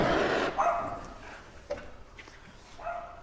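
Dog barking in a garage, several loose barks and yips at uneven intervals, fairly close and loud against a noisy background.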